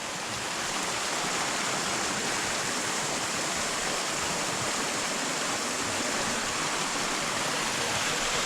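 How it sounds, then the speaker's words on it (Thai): Water rushes and splashes continuously from Ang Beng waterfall into a stream in Makham, Chanthaburi, Thailand, a loud, even roar with no other sounds. "ก็น้ำตกลำธารอันนี้ก็จะไหลลงไปเรื่อยๆ"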